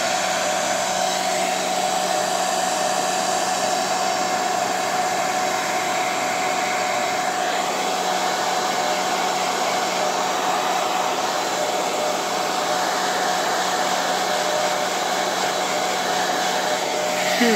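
A hair dryer blows steadily on poured acrylic paint art to spread the paint and open cells, a loud, continuous broadband whoosh with a constant motor hum, running unbroken and close throughout with no talking.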